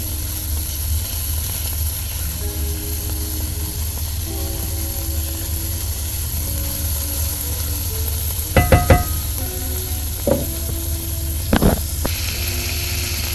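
Onions sizzling steadily in a pan on the stove, a continuous loud frying hiss with a few brief clinks and stirring scrapes toward the end.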